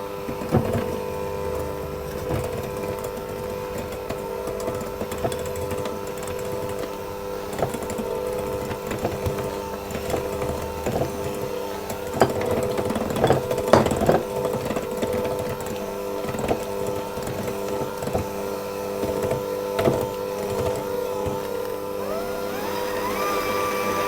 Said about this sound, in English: I'm simply going to mix that on a low speed until it's all come together